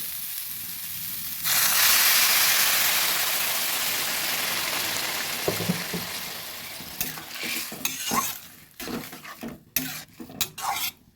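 Water goes into a hot pan of oats khichuri with vegetables, setting off a loud hissing sizzle that gradually fades, followed by scattered clinks and scrapes of a utensil stirring against the pan.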